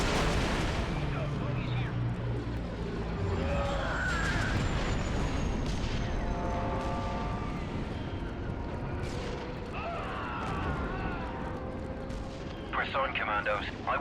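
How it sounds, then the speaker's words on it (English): Heavy artillery fire in the Star Wars Republic Commando video game: dense, continuous booming and blasting that stays loud for the whole stretch, mixed with layered battle effects and occasional sharper bursts. "Advisor, we've got some heavy artillery over here."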